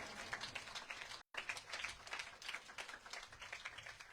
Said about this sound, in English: Give them a round of applause once more.